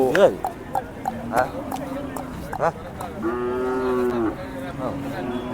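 A Khillar cow at a cattle market in Sangola lets out a long, low moo near the listener, with people talking and scattered knocks and shuffling around it.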